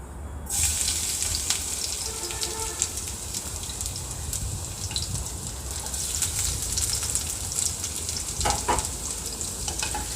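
Black cumin seeds and chopped garlic fry in hot oil with a loud, steady sizzling hiss, interrupted by occasional crackles and spoon stirs in the pan, with no voices.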